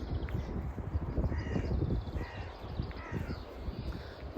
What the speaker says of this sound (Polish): no akurat gapa czy szpak, co to było takie kra,